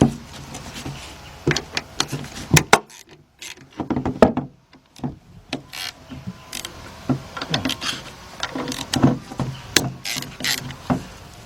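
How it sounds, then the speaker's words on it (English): A 3/8 drive ratchet with an 8 mm deep socket breaks loose alternator bolts on a 1993 Nissan Altima, giving clicking ratchet bursts and metallic knocks in irregular clusters, close and fairly loud. "I got a 8 millimeter deep 3/8 drive socket with my 3/8 drive ratchet. I'm gonna go ahead and break those loose."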